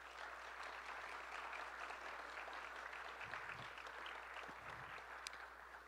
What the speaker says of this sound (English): Let's go ahead and give Compass Academy a round of applause.